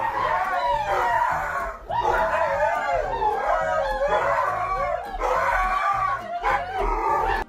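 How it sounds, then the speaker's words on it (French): Three dogs bark and howl together in long, wavering overlapping howls broken by short barks and yips, loud and close, with brief pauses between bursts. "Attends, mais il y a combien de chiens là?"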